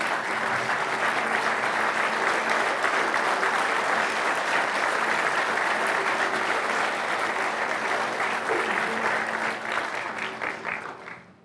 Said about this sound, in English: if you would give them a round of applause for a job well done